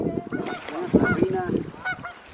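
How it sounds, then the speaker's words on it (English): A flock of geese honks noisily at close range beside water on a fishing outing, overlapping nasal calls crowding together for a couple of seconds with faint voices mixed in. "Look at these geese."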